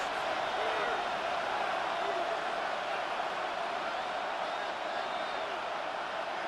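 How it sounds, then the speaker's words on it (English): Stadium crowd in the video game Madden NFL 26, a steady broadband roar running evenly throughout with faint whistle-like tones, late in the second half of a football game, under an announcer's voice. "This crowd into it now."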